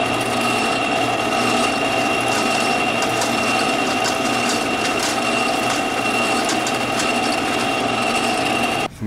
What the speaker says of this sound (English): I'm going to use the bandsaw to make a rough cut from here up to here.